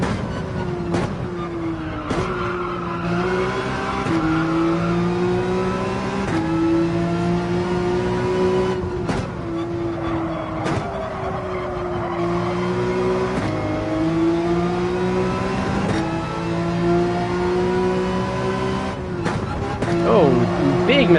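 Race car engine in Gran Turismo 7 holding a steady, droning pitch that rises and drops with gear changes over about twenty seconds, with occasional sharp breaks in the tone, continuous and fairly loud beneath someone talking.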